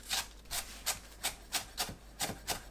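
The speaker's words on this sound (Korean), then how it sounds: "파를 작게 썰어줍니다." Knife chopping green onions finely on a cutting board, about eight crisp, evenly spaced cuts in a steady rhythm, close and clear with no talk.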